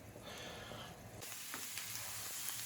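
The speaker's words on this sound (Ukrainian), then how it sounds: "смажимо цибульку" Onion sizzling steadily in hot oil, a continuous hiss that briefly brightens with a few crackles and stirring sounds.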